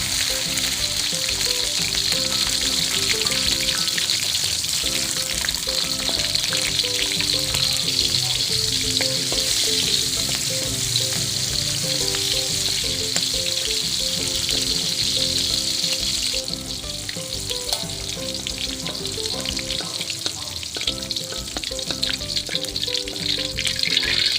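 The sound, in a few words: chili and garlic frying in oil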